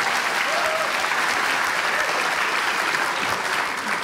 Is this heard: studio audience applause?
yes